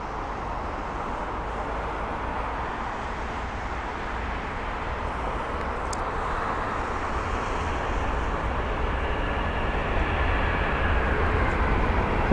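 A jet airliner arriving at London Heathrow produces a steady, distant roar that builds slightly over the span, a broad engine wash with no voices.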